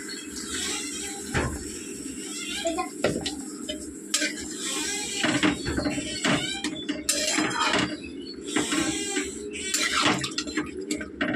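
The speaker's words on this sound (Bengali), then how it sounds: "এবারে জল দিয়ে দেবো" Water poured into a pan of curry, cooked down in meat style, as it simmers, a steady splashing wash with scattered clinks of utensils against the pot, close and continuous.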